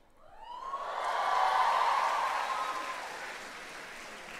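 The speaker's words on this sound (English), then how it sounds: "give yourselves a cheer" Crowd of university graduates cheering and applauding at a commencement, a broad wash of clapping and voices swelling over the first second, peaking loudly mid-clip and then sustaining as a steady roar with a faint whoop riding on top.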